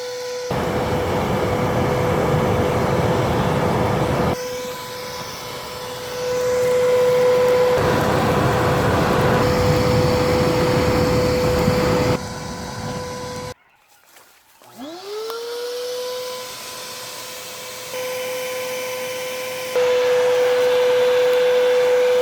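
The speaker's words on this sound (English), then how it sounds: "I'm going to cheat and use the shop vac and blow all the ashes off and get it going better" A shop vac blowing ashes off a burning tree stump, a loud steady motor whine and rushing air that cuts out briefly, then spins back up and continues droning.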